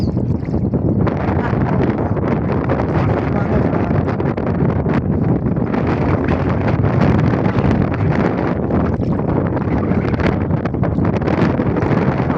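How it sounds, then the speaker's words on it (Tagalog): Strong wind roars continuously across the microphone, loud and gusty throughout with no pauses. "Hangin."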